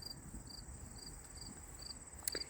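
Crickets chirp at night in the forest around an old colonial farmhouse, a faint, steady high-pitched trill with evenly spaced pulses and a soft background hiss.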